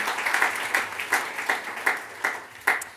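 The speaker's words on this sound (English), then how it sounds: "give her a round of applause too" Audience applause for a festival executive director at a writers' festival programme launch, a steady run of clapping from a moderate crowd with several louder bursts, heard alone without talk.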